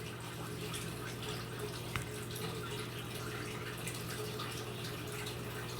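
Water from a canister filter outflow spills and splashes into an aquarium, a soft, steady trickling wash with a low hum underneath and one brief tap partway through, faint and continuous with no talk.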